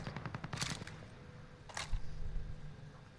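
Gunfire in Call of Duty: Modern Warfare, a rapid run of cracking shots followed by a single sharp report, fairly faint and distant over quiet game ambience.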